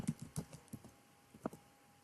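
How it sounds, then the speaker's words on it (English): Quiet keystrokes on a computer keyboard, a short burst of irregular clicks followed by a pause and a couple of final taps, close and alone. "Now type in the destination."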